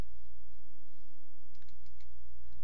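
A few faint, sharp clicks of a computer mouse in quick succession, close but quiet over a steady low hum, including a pair that fits a double-click.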